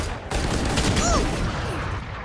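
Rapid gunfire bursts in the video game Valorant, loud and dense throughout with a whooshing ability effect midway, while players talk over it.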